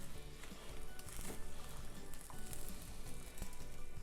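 Cottage pie mince mixture sizzles steadily in a hot pan as it is stirred through, a close, dense frying hiss with faint scraping from the spoon, continuous throughout with no talk.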